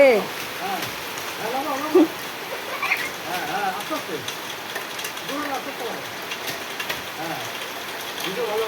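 Heavy rain pours down onto a courtyard where water is pooling, a steady wash of drops with scattered splashes, while people talk and call out over it throughout.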